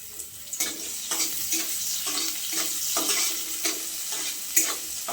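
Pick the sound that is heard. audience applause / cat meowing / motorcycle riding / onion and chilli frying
onion and chilli frying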